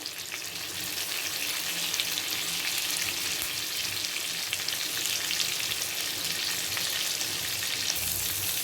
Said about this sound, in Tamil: ஒரு கொத்து கருவேப்பிலையை நம்ம வந்து எண்ணெயில் போட்டுடலாம்